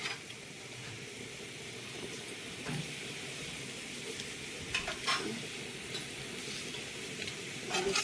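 Turmeric hits hot oil in a pan while cooking kadhi, giving a steady, close frying sizzle with faint stirring scrapes and a few soft clinks, no voices.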